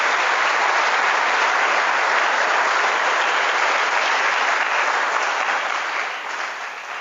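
A large hall full of military trainees bursts into steady, dense applause, a continuous wash of clapping that holds evenly for several seconds before easing slightly.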